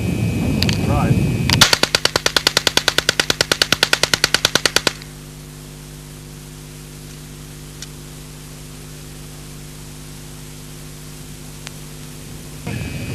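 Rapid burst of full-auto fire from an Alan Halla 1977 experimental prototype low-recoil submachine gun shooting South African steel-cased 123 grain ammunition, loud and sharp, followed by a long stretch of hum and quiet.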